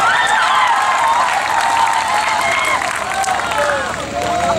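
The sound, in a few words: audience applause at a mushaira poetry gathering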